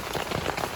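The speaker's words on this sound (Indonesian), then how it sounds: "Ini lagi hujan." Steady rain pattering on a surface at a mountain camp on Gunung Raung, a dense continuous hiss close by with no voices.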